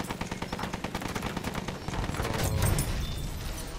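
Machine-gun fire aimed at a fighter plane in Battlefield 1 pounds out in a fast, even rhythm, up close and heavy, swelling slightly louder toward the end amid a rumbling engine-like drone.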